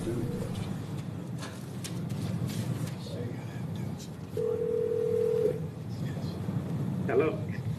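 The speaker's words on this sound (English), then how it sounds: "This is the phone call to Travis Hunter." Phone dialing for a call to Travis Hunter comes through as a steady tone lasting about a second over a noisy room with crowd murmur, a short click-like sound following near the end.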